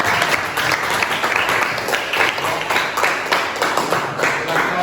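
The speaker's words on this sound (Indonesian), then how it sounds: "tepuk tangan dulu untuk Oksi" Audience applause for a presentation group in a classroom session, dense continuous clapping from many hands, loud and steady throughout.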